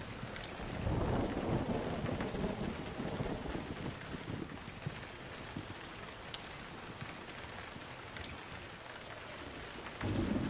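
Thunderstorm ambience from Emergency 4 with steady rain and deep rolling thunder, a loud rumble near the start and another swell at the end, continuous and moderately loud with no voices.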